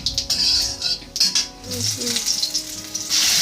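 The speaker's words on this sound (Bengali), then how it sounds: "এবার আমি ওই একই তেলের মধ্যে গোটা জিরে আর শুকনো লঙ্কা ফোড়নের জন্য দিয়ে দিয়েছি ভালো করে ভেজে নিতে হবে" Whole cumin seeds and dried red chilies frying in oil in a pan, a steady bright sizzle with crackling pops and a few soft stirring scrapes, close and continuous.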